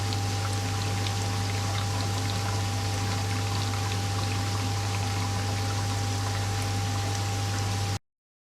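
A steady trickle of water runs from a hose into a koi pond, a continuous close pour with a constant low hum beneath it and no voices.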